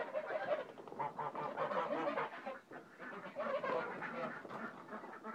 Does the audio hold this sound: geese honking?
yes